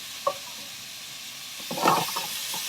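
Curry paste being stir-fried in a pan over high heat, a soft constant sizzle with a brief scrape near the start and a louder burst of hissing and stirring toward the end.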